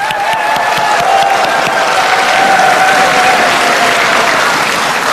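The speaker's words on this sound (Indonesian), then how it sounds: "Silakan tepuk tangan." Audience at a televised presidential candidates' debate breaks into loud, sustained applause, a dense continuous clatter of many hands close by with little else audible.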